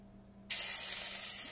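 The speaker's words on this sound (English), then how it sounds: "I'll drop one drop of my mixture to see how it will sizzle" A single drop of spinach omelet egg mixture hits a hot pan and bursts into a loud, steady sizzle that holds to the end after a quiet moment.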